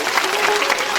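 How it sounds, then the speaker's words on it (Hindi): Audience at a Ram Katha religious gathering applauds loudly and steadily, a dense, close wash of clapping that holds for the whole second. "उनके लिए भी एक बार जोरदार ताली आप लोग बजाएं"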